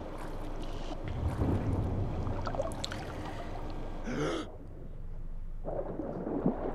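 Swimming in Dying Light 2: water splashing and churning as the character moves through it, with a sharp gasp for breath and a brief bubbling, muffled underwater stretch, fairly close.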